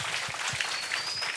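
Congregation applause during a church service, a dense continuous burst of clapping filling the whole moment.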